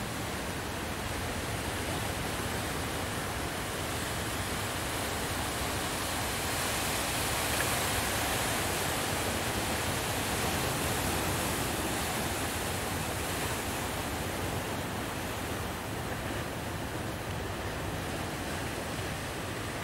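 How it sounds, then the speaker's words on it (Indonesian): A continuous roar of ocean surf washes steadily at Plawangan beach, Puger, swelling a little in the middle, with no voices. "Inilah datangnya ombaknya."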